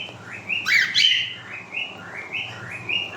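Pet birds, including a lutino parrot, chirp and whistle nearby in a run of bright repeated calls, with one louder burst of chatter early on.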